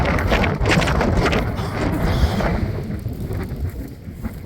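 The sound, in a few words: strong wind blowing outdoors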